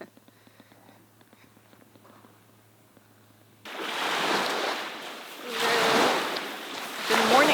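Ocean waves wash onto a cold beach in British Columbia, quiet at first, then surging in broad swells of surf with wind noise after a few seconds.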